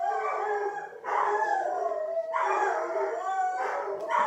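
Several dogs nearby keep up loud, drawn-out howling mixed with barks, rising in repeated waves with short dips between, and no voices over it.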